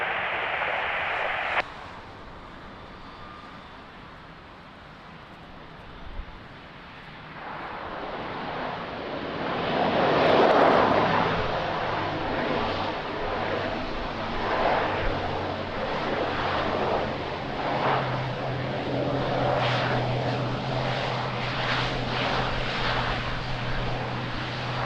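Jet airliner on approach to Lisbon Airport in rain and wind, a broad engine roar building from about ten seconds and holding steady, with rushing wind and rain noise underneath throughout.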